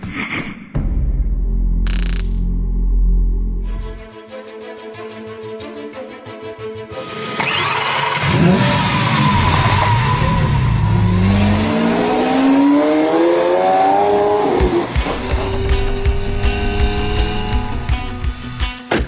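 A Lamborghini Aventador SV's engine revs and accelerates while driving, rising in loud sweeping pitch climbs with gear changes, preceded by quieter mechanical and interior sounds.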